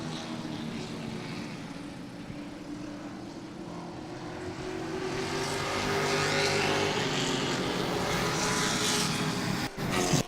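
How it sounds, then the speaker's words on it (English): Grand stock race cars, NASCAR late model stock cars, circle the racetrack in a sustained, droning engine roar that swells as the pack draws nearer, with a steady harmonic whine and no voices over it. "Grand stock machines for Pepsi working around the racetrack"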